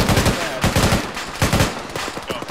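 Rapid bursts of automatic gunfire crackle loudly and close in a multiplayer shooter video game, several quick volleys in a row with voices faintly under them.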